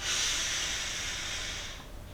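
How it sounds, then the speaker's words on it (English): A slow, deep inhalation through the nose, a soft airy hiss that holds steady for about two seconds and then fades, close and quiet with no talking. "breathing in through the nose"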